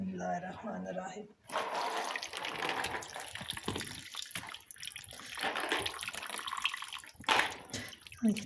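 Whey drains off homemade cheese as it is strained through a cloth in a home kitchen, a close, uneven splashing trickle of liquid that swells and fades, with someone talking over it.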